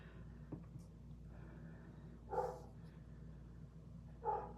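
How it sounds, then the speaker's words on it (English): A neighbour's dog barks twice in the background, two single distant woofs a couple of seconds apart over a steady low room hum. "So sorry for our neighbor's dog if you can hear the dog barking in the background."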